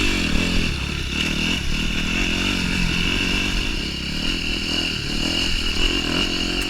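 Dirt bikes, a KTM 150 and a Yamaha YZ250F, ride over rocks and slick rock on single track near Moab, Utah, their engines droning steadily and close with rattling and clatter and no speech.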